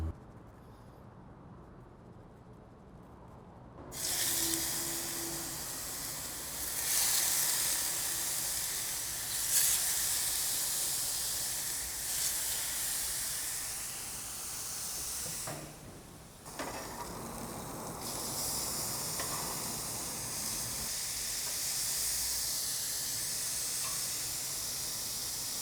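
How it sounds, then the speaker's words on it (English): Brined meat coated in barbecue rub sears in a hot pan, a loud, steady, close hiss that bursts in after a quiet start and carries on with brief dips, with no voices. "And we're gonna sear these off."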